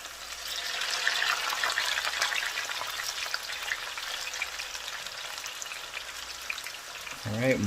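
A batch of french fries crackles and sizzles steadily in hot oil, a dense bubbling hiss close by that carries on throughout, with a brief clunk near the end.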